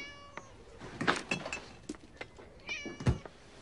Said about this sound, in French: Minou, Minou, Minou, Minou. Minou, Minou, Minou. Bonjour, toi. Tu as faim?